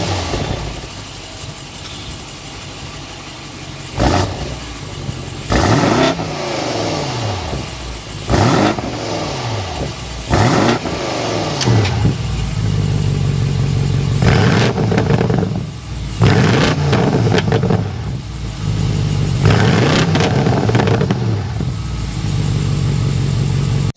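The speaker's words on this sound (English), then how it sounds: "start it up so you can hear that exhaust note." 2023 BMW M850i with a 4.4-liter twin-turbo V8 starting up and idling, then blipped through repeated sharp revs with a deep exhaust note, close and loud, settling into a steady rumble.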